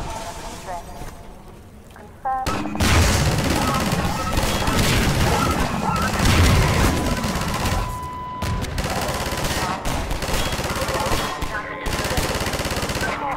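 Half-Life 2 combat with loud rapid gunfire and smashing objects, dense bursts of shots and crashes close up, with a voice talking over the din.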